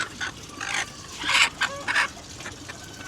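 Chickens and other backyard fowl cluck and call in short overlapping bursts at feeding time, several birds near and a few farther off, with a steady rustling background and no talk.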